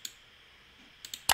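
A few soft, close clicks from a computer mouse, one at the start and a quick cluster near the end, with near silence between.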